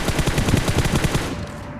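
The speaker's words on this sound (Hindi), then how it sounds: "वहाँ पे फायरिंग की साउंड बहुत तेज़ मतलब बहुत आ रहे थे" Rapid automatic gunfire from a battle royale video game rattles loud and close in a steady burst of about a dozen shots before cutting off abruptly.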